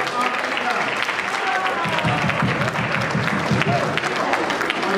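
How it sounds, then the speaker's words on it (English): Guests at a youth empowerment gala and awards night applaud, a steady, fairly close wash of many hands clapping throughout, with voices and crowd murmur mixed in. "Please give them a round of applause."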